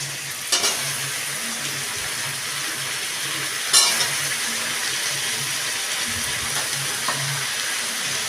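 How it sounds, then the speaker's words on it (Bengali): Diced potatoes frying with already fried onions in a pan, a continuous close sizzle with a couple of sharp clinks of a utensil against the pan. "এইবারে আমি এটার মধ্যে ডুমো করে কেটে রাখা আলুগুলো দিয়ে দিচ্ছি।"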